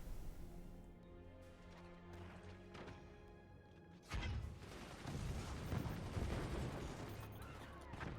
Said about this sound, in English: these mortars are just going to be constantly shot out of the sky by the gunners